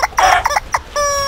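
A plush toy chick gives off a loud electronic chicken cluck of several short, bright calls, then a sustained tonal squawk, heard close and alone during an Easter egg hunt.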